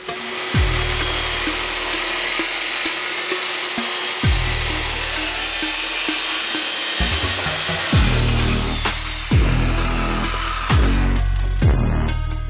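Power saw cutting walnut wood, a loud whining blade in a barn workshop with repeated rising and falling pitch sweeps as it bites into the board, ending in faster, shorter passes.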